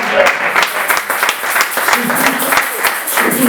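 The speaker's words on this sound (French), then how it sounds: "Acclamez pour vous-même." Audience applause filling a seminar hall, a dense steady clatter of many hands clapping throughout, with voices calling out over it.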